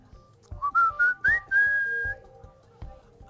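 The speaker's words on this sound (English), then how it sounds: "Can I do my little jingle whistle?" A person whistles a short, bright McDonald's advertising jingle of a few rising notes ending on a held tone, close by, with faint background noise.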